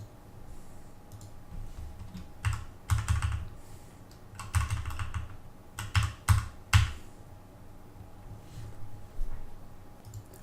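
Code is typed on a computer keyboard in irregular bursts of quick clicking keystrokes, close and fairly quiet, with pauses between runs and no speech.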